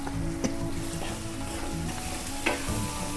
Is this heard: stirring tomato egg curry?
yes